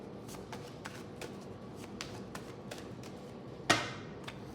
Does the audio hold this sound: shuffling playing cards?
yes